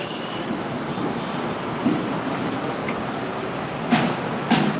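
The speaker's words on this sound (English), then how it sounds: "Raining is not good, man." Steady rain falls outdoors as a loud, even hiss with some wind. A few faint knocks or drips stand out near the end, and nobody talks.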